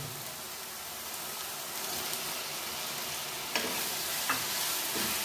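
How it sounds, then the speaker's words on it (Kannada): Chopped tomato hisses and crackles in hot oil in a pan for a spicy mushroom curry, a steady broadband sizzle with a couple of sharp scrape knocks from stirring near the end; no talking. "ಈಗ ಟೊಮೊಟೊ ಹಾಕ್ಕೊಳ್ಳೋಣ. ಒಂದು ಚಿಕ್ಕ ಟೊಮೊಟೊ ಕಟ್ ಮಾಡಿರೋದು."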